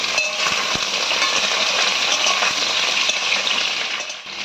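Sliced pointed gourd and ridge gourd land in a hot frying pan, giving a steady, loud hiss and sizzle of frying oil with a few faint clinks, continuous throughout and no talking.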